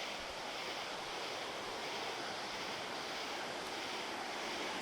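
Steady surf washing onto a beach at night, a continuous broad roar of breaking waves with wind noise, loud and unbroken, with no voices.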